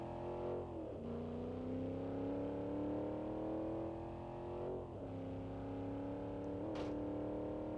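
Late model stock car based on the Chevy SS in BeamNG.drive, its engine droning loud and steady with a strong harmonic whine, briefly dipping and recovering around shifts or lifts of the throttle, no one speaking over it.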